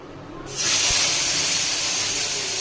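Ginger, cumin, chili and coriander paste hits a hot wok with a sudden loud sizzle that stays as a steady, close hiss.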